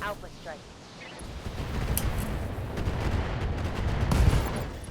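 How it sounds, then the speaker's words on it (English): In the BattleTech video game, a mech blows apart from an ammunition explosion amid heavy battle gunfire, with booming blasts and dense crackling rumble building to a loud burst near the end. "the entire mech exploding through an ammunition explosion"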